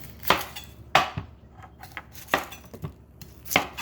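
Knife chopping through an onion on a cutting board, with four sharp cuts spaced unevenly and a few softer knocks between them, close and fairly quiet.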